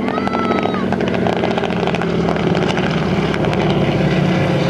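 A loud propeller engine of a WWII fighter drones steadily throughout, with a rising whine at the start as it roars close overhead at an airshow in Leesburg.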